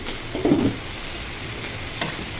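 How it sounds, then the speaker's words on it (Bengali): A potato and pointed gourd stir-fry sizzles softly in a pan while a spatula scrapes and stirs through it, with a brief louder stir near the start and another light scrape later. "ঢাকনা খুলে ভাজিগুলো নেড়ে চেড়ে দিই"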